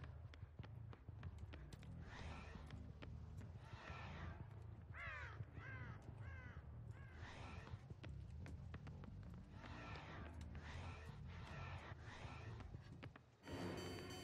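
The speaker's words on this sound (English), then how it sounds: "So far, there's not a lot of crows." Crows caw repeatedly in a video game, several harsh calls in quick bursts over a busy background of thuds and clip-clop-like game sounds.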